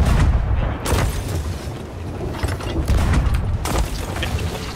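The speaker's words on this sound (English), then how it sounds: "I would just shoot some final firebombs." Firebombs going off in a Sea of Thieves naval fight, a loud, continuous rumble of deep booms with sharper bursts near the start and again toward the end, no talking over it.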